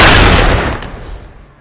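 A single loud gunshot-like boom or blast from Call of Duty Black Ops multiplayer gameplay rings out close up and then fades into a decaying rumble.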